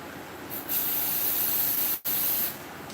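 Carburetor cleaner sprayed from an aerosol can into the end of a Paasche airbrush: a loud, steady close hiss lasting over a second, a momentary break, then another short spray.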